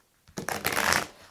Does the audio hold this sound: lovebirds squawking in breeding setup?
no